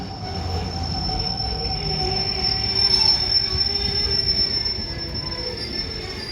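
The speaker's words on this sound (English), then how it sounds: "This is doing the Tesco train." A Tesco freight train running from Daventry to Trafford Park passes through Manchester Piccadilly: loud, sustained wheel squeal rides over a steady low rumble of rolling wagons, swelling midway and holding without any voices.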